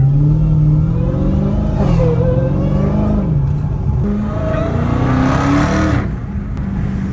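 A Dodge Challenger Hellcat Redeye engine revs up and down repeatedly through its exhaust, its pitch rising and falling in loud, close sweeps with no talking.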